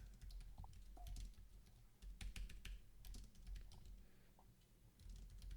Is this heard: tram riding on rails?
no